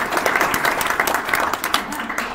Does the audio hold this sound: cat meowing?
no